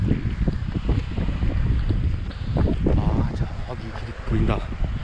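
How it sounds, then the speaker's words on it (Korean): Wind blowing across a hiking trail beside a stream on the way to Tenaja Falls from Fisherman's Camp, a rough, loud rumble of gusts buffeting close by, with a person talking over it. "바람이 좀 솔솔 불고 있고"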